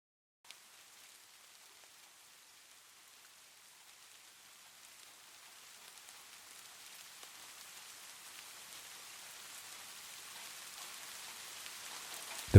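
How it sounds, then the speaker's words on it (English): Steady rain falls on a porch at night, a soft continuous hiss of drops on surfaces that grows gradually louder over the stretch, with no voices and a brief sharper knock at the very end. "Tonight, the rain sings its quiet lullaby"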